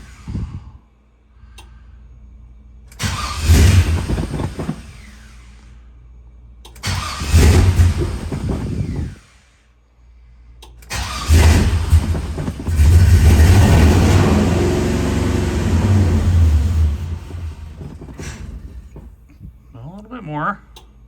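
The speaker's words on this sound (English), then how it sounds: "try to fire it up, see what it does." An LS-swapped 1988 Chevrolet C30 cranks in two short bursts, then fires and runs for several seconds, its loud engine roar rising and settling before cutting off.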